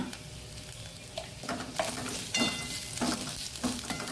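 Cumin, spices and turmeric powder fry in hot oil in a pan with a soft continuous sizzle, and a spoon scrapes and stirs in a few distinct strokes, close by, with no talking.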